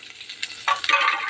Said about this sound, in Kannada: ಹಾಕಿ ಚೆನ್ನಾಗಿ ಫ್ರೈ ಮಾಡ್ತೀನಿ.